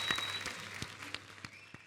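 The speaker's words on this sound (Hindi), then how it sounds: "एक बार जोरदार तालियां हो जाए" Studio audience applause on a Hindi TV comedy talk show, a faint, steady wash of clapping with a few sharper claps standing out across the short stretch.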